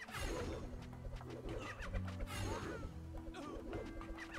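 Birds in the Kingdom Rush Origins tower defense game coo and call over a steady, dense bed of game effects and music, with bursts of chirping standing out across the mix.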